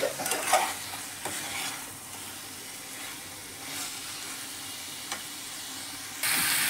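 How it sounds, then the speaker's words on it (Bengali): Potatoes and cauliflower stir-fried with spices in a pan, a steady sizzle broken by occasional scrapes and clicks of a spoon against metal, close and alone, ending in a louder burst of frying. "তো এবার এটা আলু ফুলকপিগুলো দিয়ে এবার ভালো করে কষিয়ে নেব।"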